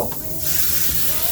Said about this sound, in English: hair oil, you know, in a spray